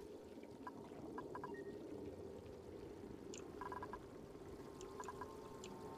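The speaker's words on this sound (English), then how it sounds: "I hear water dripping and flowing and..." Water dripping and flowing in the Oxygen Not Included base-building game: a steady low wash of running liquid with scattered sharp drip and plink accents recurring throughout, moderately loud and without talk.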